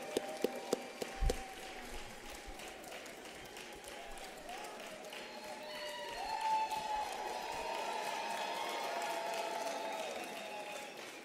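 Audience cheering and applauding as the president arrives, with sharp claps and taps at first and then a sustained, swelling crowd roar with whistling that builds around midway and holds steady.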